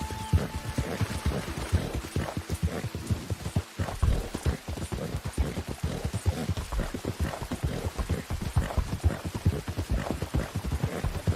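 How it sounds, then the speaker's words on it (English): Steady clip-clop of horse hooves in Red Dead Redemption 2 at a brisk, even pace, close and fairly loud, continuing throughout with no talking. "And that is a good old horse."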